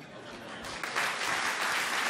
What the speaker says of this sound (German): Was klatschen Sie denn da?